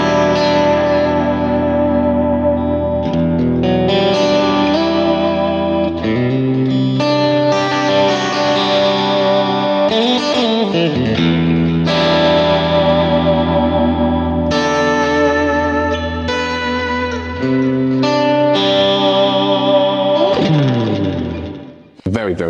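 Electric guitar on a PRS SE Custom 24 semi-hollow body using the two middle single-coil pickups, with a clean, glassy tone, chords and arpeggios drenched in echo and reverb, playing steadily and loudly before fading out.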